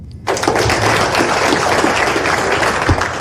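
Loud, dense applause from an audience at a live product plan presentation, bursting in abruptly and holding steady as a continuous wash of clapping.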